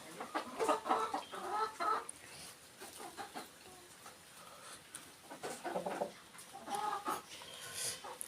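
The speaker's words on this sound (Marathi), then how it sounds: "हे आपले कोंबडी आहेत" Chickens cluck in scattered bursts over a steady background of farmyard noise, fairly close and moderately loud.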